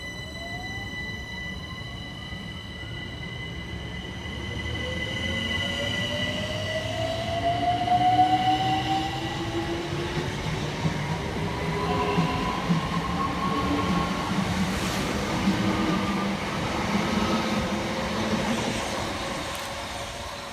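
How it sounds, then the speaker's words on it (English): Two coupled Southeastern Class 376 electric units, 376025 and 376024, pull away from a suburban station on the Hayes line, motors whining upward in pitch over steady rail rumble and wheel noise for about twenty seconds. "Next out to depart from the station is 376025 and 376024 with the 1543 Southeastern service from Hayes through to London Charing Cross"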